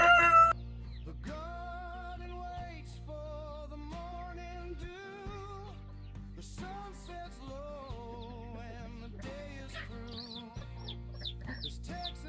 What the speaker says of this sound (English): this will be the first time I'm letting them out into the coop with the rest of the chickens